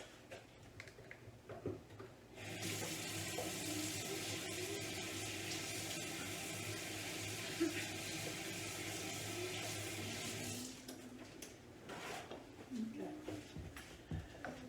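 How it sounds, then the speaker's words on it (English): A kitchen tap runs steadily for about eight seconds as hands are washed during home baking of Liberian rice bread, a broad hiss of flowing water that starts and stops abruptly, with quiet background sounds on either side. "And I'm gonna wash my hands."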